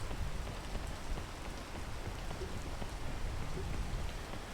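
Steady, dense rain in a video game, an even hiss of raindrops that holds constant throughout with no talking over it.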